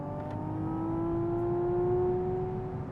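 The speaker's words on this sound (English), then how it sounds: "the engine simulated sound is really the way I know what speed I'm doing" A Hyundai Ioniq 6 N electric car plays its simulated engine sound while driving, a steady, loud tonal drone that rises slowly in pitch like gentle acceleration, over road rumble with no talk.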